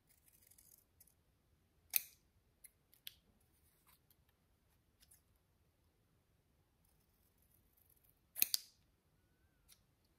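Paper is cut with scissors at a scrapbooking table, with two distinct close snips several seconds apart plus a few faint clicks in between, and no talking over them.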